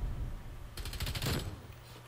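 LC-10 submachine gun fire in Black Ops Cold War, a quick burst of rapid shots lasting under a second, heard over low background game noise.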